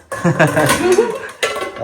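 Steel kitchen vessels and a frying pan clatter as they are handled in a home kitchen, with several close metallic knocks and scrapes in quick succession.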